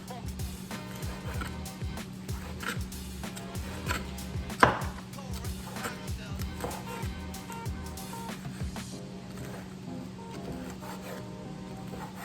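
A knife chops thick bacon into chunks on a board in a steady run of quick, close cuts, with a low background hum throughout and one sharper knock partway through.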